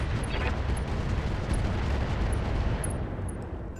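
Rapid gunfire and heavy weapon blasts rumble through a dense, continuous space-combat battle in a video game, with loud bursts layered over a constant low roar.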